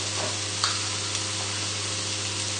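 Leeks sizzling in a pan turned down to low heat, a continuous close frying hiss with a faint steady hum underneath and a couple of small pops or stirring clicks, no voices.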